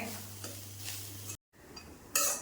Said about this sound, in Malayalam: തീയലിന് വറക്കുന്ന അതേ രീതിയിൽ വറുത്തെടുക്കണം, നന്നായിട്ട് വറക്കണം.